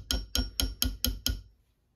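Six sharp metallic hammer taps drive drill bits into a wooden board to form a peg layout for making fishing snap clips, evenly spaced and close, ending in quiet with no talking.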